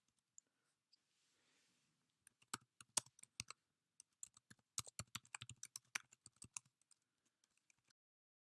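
Fast, uneven bursts of keystrokes on a computer keyboard as code is typed, clicking close and clear after a short quiet start, with no one talking.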